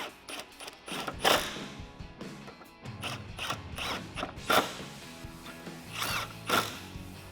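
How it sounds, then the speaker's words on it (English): A 10mm socket wrench ratchets in short bursts while tightening headlight bolts on a 2019-2020 RAM 1500 pickup, with quick clicking runs separated by brief pauses, close and clear with no talk. "Grab your 10mm socket and tighten all of these down."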